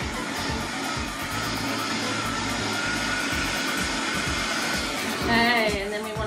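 A Ryobi hot air tool blows steadily throughout, a hairdryer-like whoosh that grows louder and shifts tone briefly near the end, used for a Dutch pour acrylic painting.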